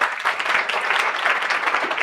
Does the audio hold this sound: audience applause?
yes